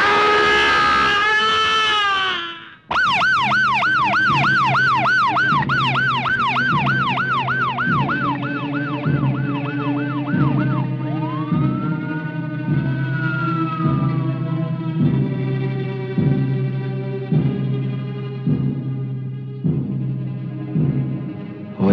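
A loud ambulance siren wails close by, first in rapid rising-and-falling sweeps, then settling into a slower wail over a steady rhythmic pulse. It is heard alone with no talking.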